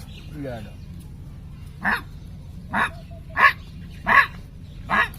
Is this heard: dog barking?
yes